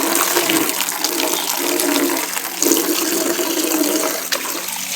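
Water from a motor-driven pump gushes steadily into a tub, a continuous broadband rushing that stays loud and even throughout with brief surges, no voices.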